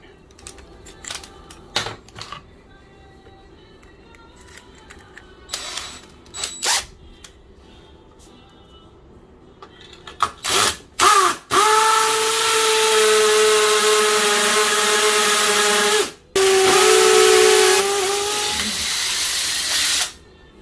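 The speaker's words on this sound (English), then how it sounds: "But I got all 3 of my holes drilled." A power drill with a tile bit bores screw holes through floor tile for a closet door install: scattered clicks and handling noises first, then a loud, sustained whining drill run with a brief pause, close up.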